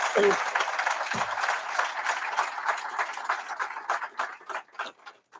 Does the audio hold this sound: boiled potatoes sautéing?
no